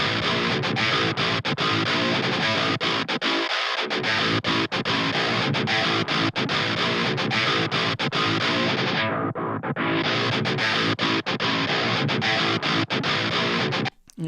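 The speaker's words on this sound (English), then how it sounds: "Let's listen to the guitars." Dense, distorted electric guitars with the low end cut away by a high-pass filter play continuously as a thick, loud wall of chugging chords, alone and with no talk.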